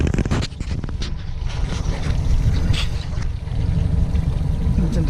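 A boat trolls slowly on a 60 outboard motor on a lagoon, a steady, close low rumble mixed with water wash and wind noise, holding an even level throughout.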